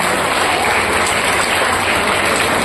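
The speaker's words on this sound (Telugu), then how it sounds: "ఆయనకి బిగ్ క్లాప్స్ అందరు కూడా" A yoga event audience in Srikakulam gives loud, sustained applause, a dense close wall of clapping holding at a constant level throughout with no voices over it.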